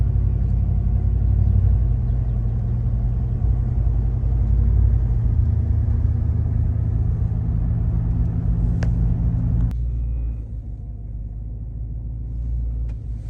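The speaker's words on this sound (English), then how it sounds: "just kind of backing up here into the corner of this lot I'm in" Truck engine rumbling low and steady while backing into the corner of a lot, dropping to a quieter idle near the end after a brief click.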